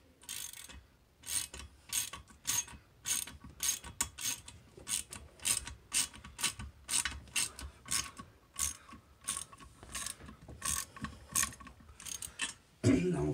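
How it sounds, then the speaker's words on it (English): A ratchet wrench tightens a toilet nut while a toilet is being replaced, giving close, repeated bursts of quick clicking in a steady rhythm with short pauses and no talk. "So we're going to tighten this nut down."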